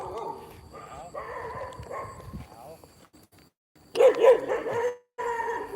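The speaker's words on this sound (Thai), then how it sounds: "แล้วหมาก็เห่า" A dog barking outside a temple, Wat Nang Rong in Thailand, heard as a loud cluster of barks partway through, with someone talking before and after.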